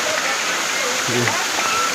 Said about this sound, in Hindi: बाहर पानी गिर रहा